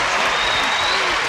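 Studio audience at a daytime game show applauds for a returning champion, a dense, steady wash of clapping that fills the short moment at close, even loudness.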